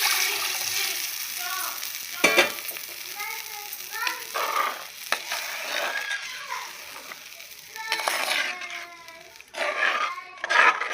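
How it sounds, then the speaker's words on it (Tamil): Chilli powder and salt mixture poured into a sizzling fish curry, with frying hiss and liquid splashing in bursts while a person speaks over the cooking noise. "மிளகாத்தூள், உப்பு கரைச்சி வச்சு ஊற்றிடலாம்"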